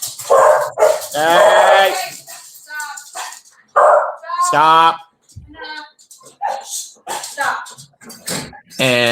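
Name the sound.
dogs barking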